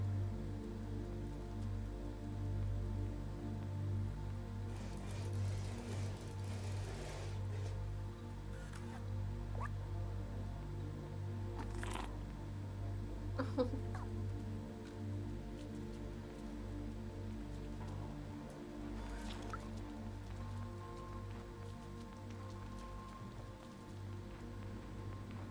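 Quiet rain beginning to fall, soft patter of drops on surfaces over a low steady hum, with scattered faint clicks and taps and no voices.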